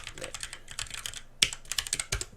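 Rapid keystrokes on a computer keyboard while entering text into a spreadsheet cell, a quick irregular run of close, crisp clicks with a few sharper taps, no voices.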